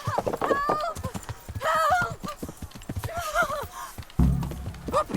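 Horse hooves clip-clop at a steady walking rhythm in the medieval game Kingdom Come: Deliverance, close and clear, with a brief whinny and a heavy thunk, while someone talks over them.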